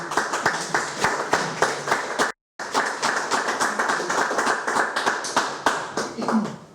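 Audience at a Catalan-language talk with the director of Plataforma per la Llengua applauds after the talk, steady close clapping that continues throughout, with a brief break and voices murmuring underneath.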